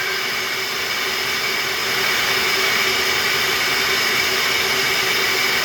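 A flow bench testing a ported Ford 300 inline-six cylinder head as its vacuum is cranked up, a loud, steady turbine-like whooshing roar that swells slightly partway through, no voices.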